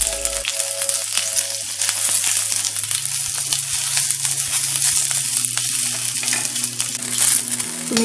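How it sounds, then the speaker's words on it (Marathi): Green chillies frying in a little oil in a pan, giving a steady close sizzle dotted with small pops and crackles, with occasional stirring scrapes and no voices. "तुम्ही बघू शकता आता आणखी 1-2 मिनिटं आपण परतून घेतलेलं आहे, मिरच्या भाजलेल्या चांगले"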